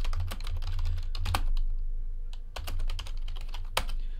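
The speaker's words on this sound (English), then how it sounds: "My fingers were just automatically typing." Fingers type quickly on a computer keyboard in bursts of close, crisp key clicks with short pauses. No one speaks.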